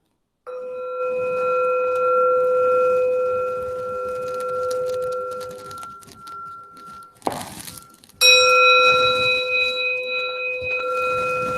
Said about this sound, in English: In a moment, I'm going to ring a bell.